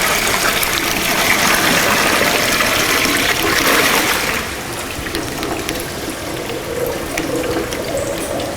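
Liquid pours out of a tipped stainless steel drum on an electric drum stacker rotator in a wet area, a steady close splashing gush that eases into a softer trickle and drip partway through.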